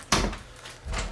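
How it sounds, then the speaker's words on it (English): A door shut at home, one sharp thud with a short rattle near the start and a second softer knock just after, close and fairly loud with no talk. "door shut,"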